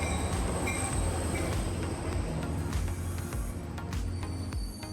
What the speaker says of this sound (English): our train, CalTrain Limited 5, number 512, pulls into the station.